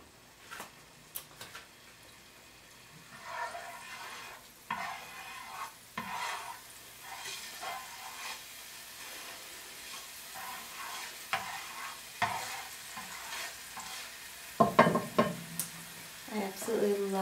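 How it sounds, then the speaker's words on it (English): Chicken and asparagus roll-ups sizzle in a pan as they are stirred, a quiet, steady crackle with scattered scrapes and taps of a utensil, close and gentle, with no talking. "Starting to sizzle."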